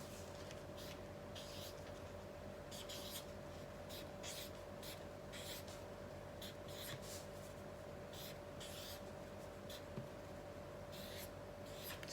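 A pen scratches across paper in short, irregular strokes, writing out a word over a faint steady background hum.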